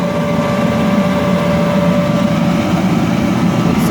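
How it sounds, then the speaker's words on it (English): A bounce house inflatable blower runs loud and close, a constant droning motor roar with a steady whine and no change throughout. "This is the typical blower setup."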